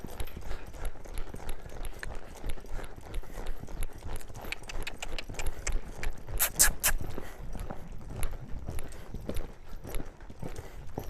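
Rapid drumming hoofbeats of a ridden horse at a canter, steady rhythmic clip-clop at moderate distance throughout, with no talking.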